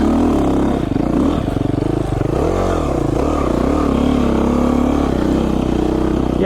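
Beta 500 RR-S motorcycle engine laboring up a tight mountain single-track trail, a steady loud close drone whose pitch rises and falls with throttle changes, with faint clatter from the terrain and no talk.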